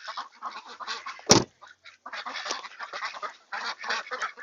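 Ducks quacking and honking in a steady, dense chorus close by, at a spot where chickens are fed, with one loud sharp knock partway through.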